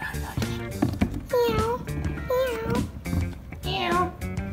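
Young voices imitate cat meows, several drawn-out mewing calls one after another amid background noise.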